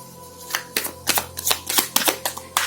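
Tarot cards are shuffled and drawn, giving a close series of crisp riffling and slapping bursts in an uneven rhythm over a low steady hum.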